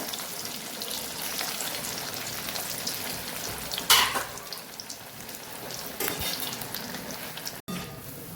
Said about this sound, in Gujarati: બ્રાઉન કલર આવે ત્યાં સુધી આપણે આને તળવાના છે અને ક્રિસ્પી એવા તળવાના છે